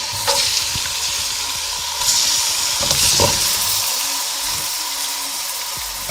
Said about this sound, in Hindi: तो इसलिए अभी हम पहले ही चिकन शामिल कर रहे हैं।